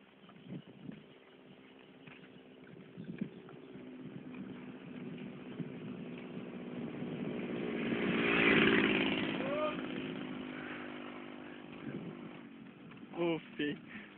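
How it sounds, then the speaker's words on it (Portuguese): A motorcycle engine drones and swells as it approaches and passes nearby, then fades, with people talking faintly throughout. "Vem moto aí."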